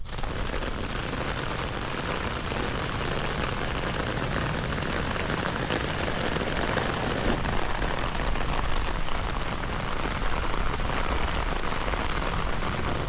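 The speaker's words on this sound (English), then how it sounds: "you can see that the water is falling right on it" Rain falling directly onto a Vantrue S1 Pro Max waterproof dash camera during Miami's rainy season, a constant, dense patter and hiss of water striking close by, steady for the whole stretch.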